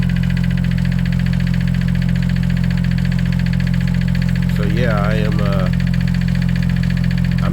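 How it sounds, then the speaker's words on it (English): A diesel-sounding engine idles steadily with a low, constant rumble and a fine repetitive ticking from a faulty injector, continuous throughout while someone briefly speaks near the end. "Not an engine knock, that's an injector knock."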